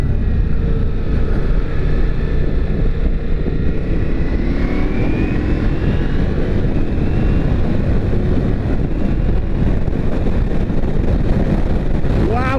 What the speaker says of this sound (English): Wow, is it windy? Holy sh! Anyway, it is really blustery. It is really kicking up.